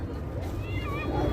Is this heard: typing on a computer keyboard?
no